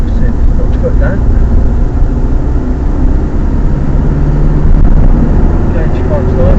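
A Ford Ranger 2.5 turbo diesel, fitted with a boost gauge, being driven. From inside, a loud, steady low engine drone and road rumble continue throughout.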